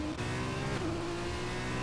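Formula 2 race cars in a racing video game set in Italy produce a steady, continuous engine drone with sustained high revving tones throughout, loud and close with no talk.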